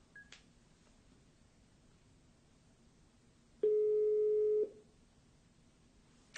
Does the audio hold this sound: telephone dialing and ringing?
yes